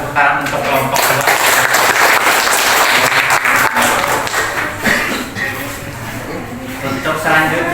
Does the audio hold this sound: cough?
no